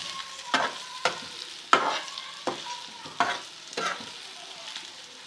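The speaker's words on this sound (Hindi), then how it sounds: "थोड़ा सा इसको भूनते हैं" Green chillies and gram flour fry in a pan while a spoon stirs them in steady strokes, giving a series of scraping, sizzling bursts about every half second with no talking.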